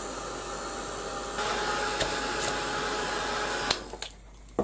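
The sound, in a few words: quick blast of a dryer drying a junk journal page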